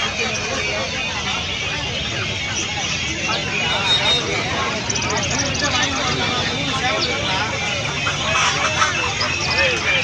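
Chickens and roosters cluck amid a busy crowd at the Pallavaram market in Chennai, with live birds sold by the piece. The steady, dense babble of voices and traffic noise runs throughout, with the fowl calls blended into the din.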